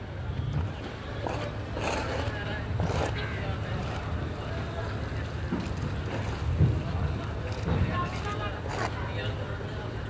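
A large boat approaches on open water, its engine a steady low drone that runs through the whole stretch, with scattered rustles, knocks and faint voices on top.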